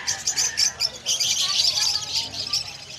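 Many budgies chirp and tweet at once in a crowded pet bird market in Malabon, a dense, continuous chatter of bright calls up close, with someone talking over the birds.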